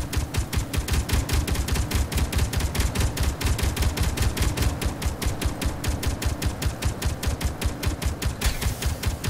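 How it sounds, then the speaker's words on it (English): Rapid, steady bursts of automatic gunfire from a player's weapons in the space sandbox game Space Engineers, loud and continuous with a fast mechanical rhythm and no talking. "I'm shooting at something."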